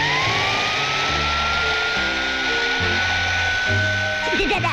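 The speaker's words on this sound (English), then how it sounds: "This is the old vacuum cleaner trick." Cartoon vacuum cleaner from a 1970 animated short running with a steady whining drone and rumbling motor hum, loud and continuous throughout.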